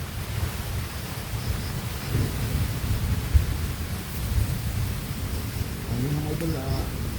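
Steady heavy rain hisses throughout, with a few faint low rumbles and muffled voices talking in the background.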